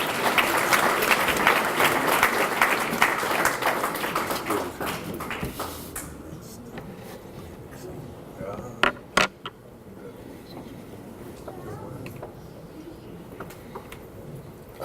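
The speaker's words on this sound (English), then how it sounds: "Let's give Bryson a round of applause." Banquet audience at a memorial scholarship dinner applauds loudly for about six seconds, then the clapping thins to scattered claps and a few sharp knocks in a quieter room.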